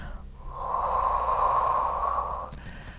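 A long, steady exhaled breath during a Pilates exercise, close and clear, building over about two seconds before fading out.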